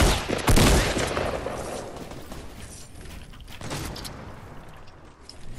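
Fortnite gunshots open with a sharp, loud burst, then a rough spray of fire and clattering action that tapers off over a few seconds.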